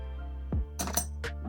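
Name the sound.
metal intake manifold bolts dropped into tumbler with steel pins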